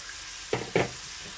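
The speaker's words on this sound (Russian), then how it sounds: "Лук с морковкой я обжариваю чуть-чуть, отправляю туда мясо." Pork with onion and carrot fries in a pan on a fry setting, a steady close sizzle broken by two short bursts of stirring.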